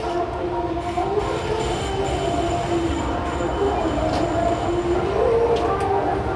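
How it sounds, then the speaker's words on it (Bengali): Family train ride at the Fantasy Kingdom amusement park, a steady rumbling rolling drone with a faint wavering squeal of wheels, close and continuous. "আমরা এখন আমাদের তৃতীয় রাইড ফ্যামিলি ট্রেনে উঠব"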